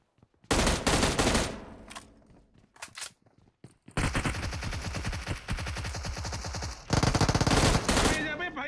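Bursts of automatic gunfire from the PUBG Mobile battle royale game, a short volley followed by two long sustained rattling streams, loud and close, with brief speech between.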